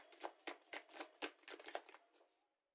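Tarot cards shuffled by hand, a quick run of about seven or eight soft papery riffles and slaps in a steady rhythm, close but quiet, with no one talking.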